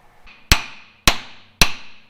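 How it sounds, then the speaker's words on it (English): Three sharp, loud metallic hammer blows on a steel vehicle differential cover, evenly spaced about half a second apart, each with a short ringing decay, close by with no talking. "Once you right stuff it on, you can wail on it with a hammer pretty severe and take it off."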